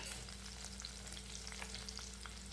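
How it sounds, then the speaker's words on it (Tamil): Onion, garlic and green chillies sauté in a pan as the base for a village-style fish kuzhambu. A soft, steady sizzling hiss runs throughout over a low electrical hum, faint and unbroken. "இப்போ வெங்காயம் பூண்டு நல்லா வதங்கட்டுங்க."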